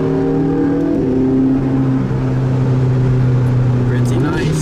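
Ferrari F12 cruising nearby, its engine droning steadily with shifting tones and occasional exhaust pops toward the end, loud and continuous under the road noise.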